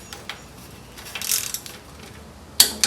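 Torque wrench tightening VW Beetle engine bolts: faint ratcheting clicks that build to a sharper click near the end, close and quiet in a mostly still workshop.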